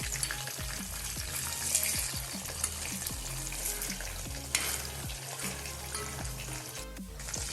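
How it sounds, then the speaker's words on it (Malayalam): Chicken pieces frying in hot oil for crispy chicken fry, a dense continuous crackling sizzle with occasional pops and faint utensil clicks, close and steady without talking. "ഇനി നമുക്ക് ചൂടായ എണ്ണയിലോട്ട് ഓരോ പീസായിട്ട് ഇട്ട് കൊടുക്കാം"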